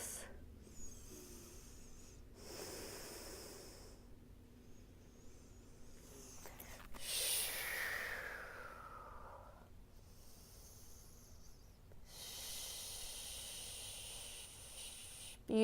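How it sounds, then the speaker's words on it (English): Slow deep breaths during a shoulder and hip release yoga flow; soft, airy inhales and exhales close by, several breath cycles spaced a few seconds apart in a quiet room. "We're here for 3 more deep breaths."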